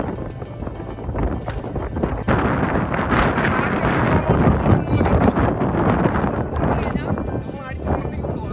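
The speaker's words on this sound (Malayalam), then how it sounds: "അത്രയ്ക്ക് കാറ്റുണ്ട്, ഒരു രക്ഷയില്ല" Strong wind on Koonichimala hilltop in rain buffets the microphone in continuous gusty roaring, rising and falling over several seconds, with a muffled voice partly buried beneath it.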